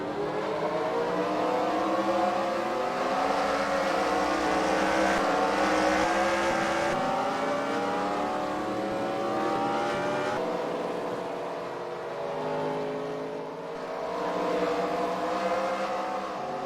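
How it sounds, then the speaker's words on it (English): Race car engines in an eNASCAR video game race at Chicagoland drone and rev together in a loud, continuous layered roar as the field sets off for the pace lap, with no talking. "Drivers are firing their engines, and here we go, getting ready for the pace lap."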